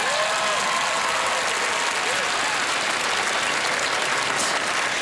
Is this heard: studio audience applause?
yes